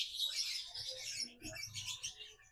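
A male lovebird, once a fighter and now in poor condition, chirps in dense, bright high-pitched bursts, close and fairly loud, with some low rustling beneath.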